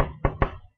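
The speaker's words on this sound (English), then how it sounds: "I probably shouldn't have knocked on the hard plastic" Two sharp knocks on the hard plastic shell of an STX Cell goalie chest pad, close and distinct, spaced a fraction of a second apart, with a faint low hum underneath.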